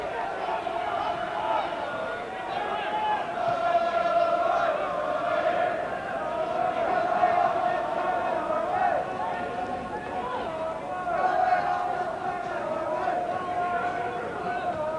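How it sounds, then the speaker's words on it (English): Football crowd at a Portadown versus Distillery Budweiser Cup Final urging Portadown forward, a continuous roar of massed voices rising and falling in surges, with chanting tones under it. "a bit of encouragement from the crowd, who are urging Portadown forward."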